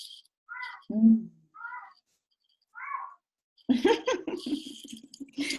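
A cat gives several short, separate meows at close range with quiet pauses in between. Then a person starts talking over the last part.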